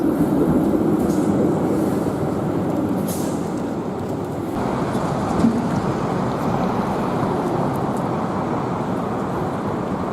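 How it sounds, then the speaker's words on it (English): A Toronto streetcar moves along a city street, heard as a loud, steady broadband rumble that shifts midway, with constant traffic noise and no speech. "The trams."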